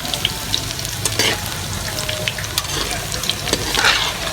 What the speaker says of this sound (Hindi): इस तरीके से आप लोग इसको ऊपर नीचे करें ताकि सारे अच्छे तरीके से फ्राई हो जाए।